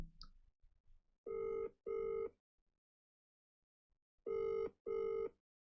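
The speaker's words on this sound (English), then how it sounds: "I'm ringing Hassan and telling him about this shit" A telephone ringback tone sounds as a call is placed, in two pairs of short, steady electronic rings separated by a long silent gap, clear and close.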